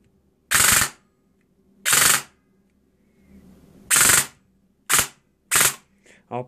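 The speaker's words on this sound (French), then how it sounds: "si on relâche la détente avant, bien sûr, ça va nous faire la rafale qu'on veut" An airsoft gun fitted with a Mosfet Merf 3.2 fires five short, loud full-auto bursts at close range, separated by near-silent pauses, with faint mechanical clicking between and after the bursts.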